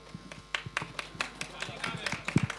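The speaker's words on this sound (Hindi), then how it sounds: "तालियां बजते रहनी चाहिए जब तक स्टेज पे आती हैं" Audience applause greets guests arriving on stage at the Son of Sardaar 2 trailer launch event: scattered, uneven claps sound close by, mixed with ongoing talk and crowd noise.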